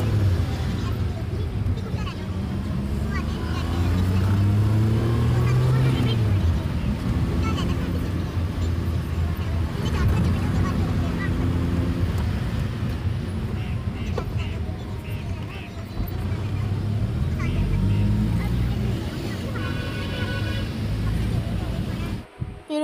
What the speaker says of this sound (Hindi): यूनिवर्सिटी से निकलते ही सबसे पहले तो आपको ट्रैफिक का सामना करना पड़ता है जी